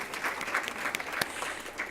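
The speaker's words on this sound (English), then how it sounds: "I would ask again if you could please join me in giving a round of applause to our presenters" An audience applauding presenters, panelists and a moderator after an education policy session, a full, steady round of clapping with a few sharper individual claps.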